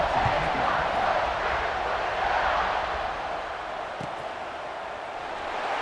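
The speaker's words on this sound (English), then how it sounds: "this crowd is buzzing after that last score" Dense, loud roar and buzz of a football stadium crowd in a college game after a touchdown, steady broad crowd noise throughout with no clear single voice.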